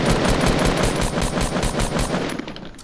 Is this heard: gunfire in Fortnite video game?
yes